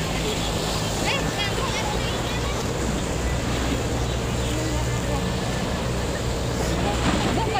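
Waves and wind at a rocky seaside fishing spot give a steady, loud, broadband wash with rumbling low surf throughout, while people talk over it.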